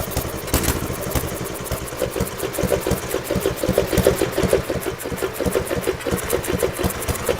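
A small engine fitted with a transparent carburetor runs steadily, a loud, fast and even putter with rapid regular firing pulses throughout, close up with no talking.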